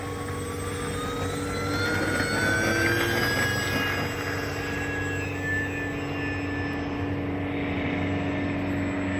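A full-size airplane's engine drones steadily nearby, a sustained hum with a rising whine that swells midway and then holds.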